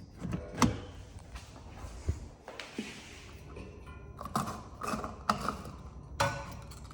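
A car's fuel door release lever under the left side of the dash is worked, giving several short mechanical clicks and thunks at separate moments, with a quieter low rumble between them.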